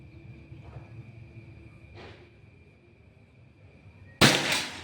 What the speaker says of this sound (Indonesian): ini tembakan terakhir yang ke-6